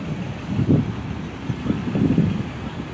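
Wind buffets the microphone in low, uneven gusts, rumbling and swelling in waves with no voices.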